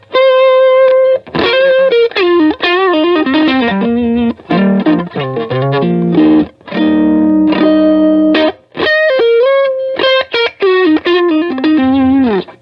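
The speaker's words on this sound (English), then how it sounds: "I'll dial the distortion back and the volume up, and man, it sounds killer." An electric guitar runs through a JHS PG14 distortion pedal with the gain lowered and the volume raised. It plays loud, sustained chords and single-note phrases with short pauses between them, and no one talks over it.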